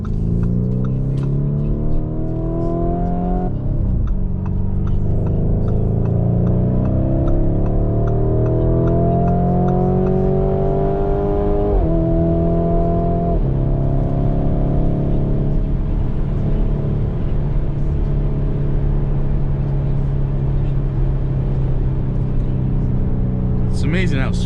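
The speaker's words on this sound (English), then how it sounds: "The exhaust is wide open, so you definitely hear it." Exhaust drone of a 2019 Lamborghini Urus heard from inside while driving in traffic. The engine hum rises and falls with throttle and shifts, and someone talks steadily over it.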